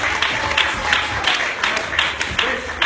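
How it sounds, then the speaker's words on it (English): Audience clapping for a volunteer named Colin at a magic show, a short burst of moderate applause from a small crowd with a voice speaking over it. "All right, everyone give him a round of applause."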